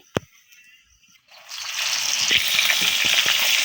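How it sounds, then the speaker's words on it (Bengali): Loud, steady sizzling of large catla fish pieces frying in hot oil kicks in after a quiet start, with crackles and pops scattered through a continuous hiss. "এই যে আমার মাছগুলো কিন্তু এভাবে ভেজে নেব"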